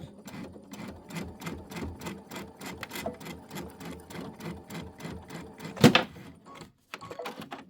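An OESD embroidery sewing machine stitches a tile design in rapid, regular bursts of needle clatter, pausing briefly with a sharp click near the end.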